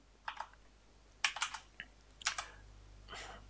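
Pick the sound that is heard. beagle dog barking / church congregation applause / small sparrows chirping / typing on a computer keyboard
typing on a computer keyboard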